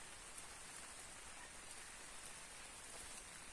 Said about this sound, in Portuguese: Tá chovendo bastante, pessoal.